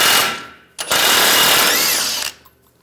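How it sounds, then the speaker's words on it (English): An impact-style power tool whirs in two loud, close bursts, with a short pause between them, as a 21mm socket spins off a tie rod nut on a Ram 1500 pickup. "Using a 21mm socket, we'll take this nut off for the tie rod."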